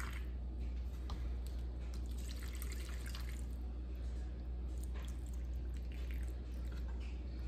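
Water and chicken bouillon mix is poured into the corners of a baking dish of turkey wings, a steady liquid trickle with light splashes over a low kitchen hum.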